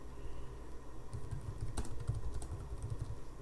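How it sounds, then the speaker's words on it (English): Rapid typing on a computer keyboard, steady clusters of close, light key clicks running through the whole stretch with no voices. "You can type a very long string here."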